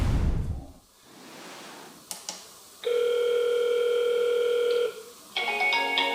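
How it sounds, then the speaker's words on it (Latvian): An intercom door-panel call comes through to a phone: after a short rustle, a sustained electronic ring tone holds steady for about two seconds, then a second, brighter multi-tone ring begins, clear and close with no talking. "Lūk, man atnāk zvans,"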